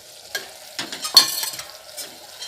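Coriander, chili and turmeric powders are sautéed in a pan for vegetable kurma, with a few distinct spoon scrapes and stirs over a light sizzle, close and clear.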